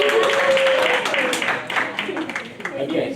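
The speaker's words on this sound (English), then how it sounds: "Let's clap for them, encourage them" Audience applause at a university honors and undergraduate research conference, a short spell of scattered clapping heard under and around a speaking voice and fading out by the end.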